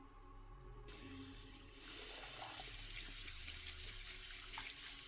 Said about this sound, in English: I need to wash my face. With cold water in the bathroom.